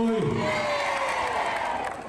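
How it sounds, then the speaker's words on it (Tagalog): Rally crowd in Davao cheering and shouting loudly in a sustained roar, with a rising whoop near the start, the noise tapering slightly at the end. "Narinig nyo ho yung hiyawan na yon"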